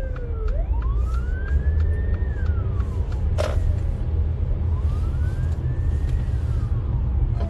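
A police car siren wails continuously in rising and falling sweeps over heavy, steady road traffic rumble, fairly close and loud throughout.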